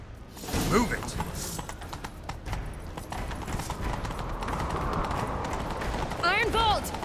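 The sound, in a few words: horse galloping in video game The Witcher 3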